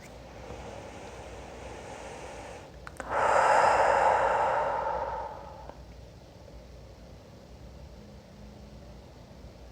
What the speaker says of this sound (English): Just breathing in and out.